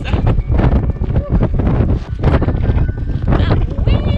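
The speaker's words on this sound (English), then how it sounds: "That wind!" Strong gusty wind buffets the microphone in loud, uneven blasts during a hike on Maria Island, Tasmania, with voices talking over the rumble.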